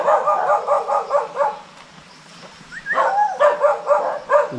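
A dog barks repeatedly in quick rhythmic bursts, pauses briefly with a whine, then resumes barking close by.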